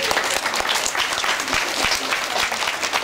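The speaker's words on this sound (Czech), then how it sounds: "Tak, potlesk pro závodníky." A crowd applauds swimmers at a swimming competition in Plzeň, with dense, continuous clapping that fills the room at a loud level for the whole stretch.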